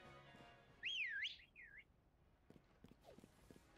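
A single high, swooping whistle in the video game Pokémon Shield rises and falls for about a second, followed by faint clicks and a soft chirp in a quiet setting.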